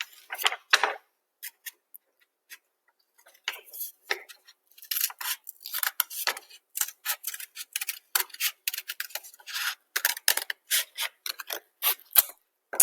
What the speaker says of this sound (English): And you're going to cut on your black line.